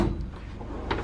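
Tool box drawer sliding open with a short, dull scrape and a light clunk at the end, heard up close and on its own.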